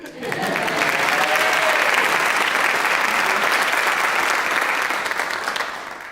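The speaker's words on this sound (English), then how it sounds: "Let's clap for Harriet." A convocation audience bursts into warm, sustained applause, a dense even roar of many hands that rises quickly, holds steady for several seconds, then tapers slightly.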